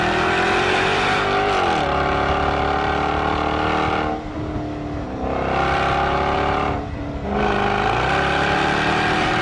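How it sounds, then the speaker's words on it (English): A 2013 Jaguar F-Type convertible's V8 engine revs loudly and up close, with rising and falling pitch sweeps as it climbs through the gears, broken by two short lifts off the throttle. "I then got in the V8 and I need this noise in my life."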